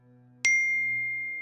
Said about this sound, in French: J'ai soudain reçu une notification en haut de mon téléphone.